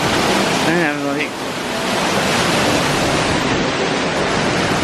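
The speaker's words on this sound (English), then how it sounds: "Waterfall. Backside of water." A waterfall seen from behind the falling water, its steady broadband rush filling the scene loudly and continuously, with a brief voice near the start.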